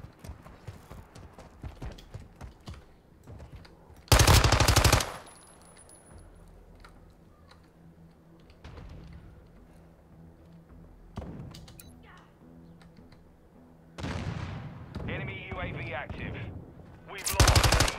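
MX9 submachine gun fire in Call of Duty: Modern Warfare 2: two loud, dense automatic bursts and a final short burst, rising sharply over a quieter background of game sounds.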